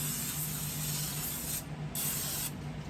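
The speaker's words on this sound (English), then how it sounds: "olive oil spray. You only need a little." Olive oil cooking spray misted into a pan for chicken soup, a steady hiss that runs for over a second, stops briefly, then comes back in a few short bursts, close and fairly quiet.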